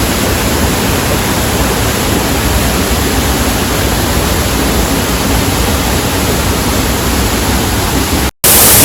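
Steady roaring rush of an abandoned waterfall in a forgotten hidden spot, broadband and continuous at close range, cutting out abruptly near the end.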